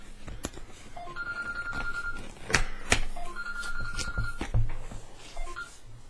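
An indoor telephone rings in repeated electronic bursts of bright tones, separated by short gaps, at moderate, slightly distant loudness with no talking.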